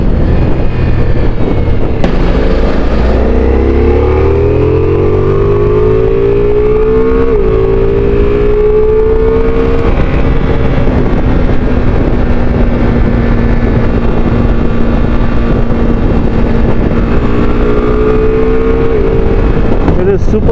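A 2025 Ducati Multistrada V4S motorcycle rides along, its engine droning loud and close with rising and falling pitch as it accelerates and shifts through gears, heavy wind rumble throughout and a voice occasionally speaking over it.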